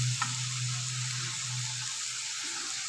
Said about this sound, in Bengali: পেঁয়াজ আর কাঁচামরিচ আমি এটাকে তেলে ভাজবো